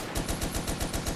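Turret machine gun in the Toy Soldiers: War Chest video game fires a steady, rapid burst of about eight evenly spaced loud shots, close and continuous with no talking.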